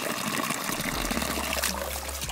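Pure spring water runs steadily from a hose into a bottle outdoors at a fishing spot, a continuous close gush whose pitch shifts as the bottle fills.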